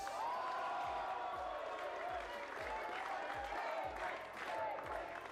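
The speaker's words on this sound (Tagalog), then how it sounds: "Salubungin natin ang hiyawan" Applause and cheering from a crowd at a rap battle finals as a finalist is introduced, steady dense clapping with crowd noise throughout, heard under a reaction video's background.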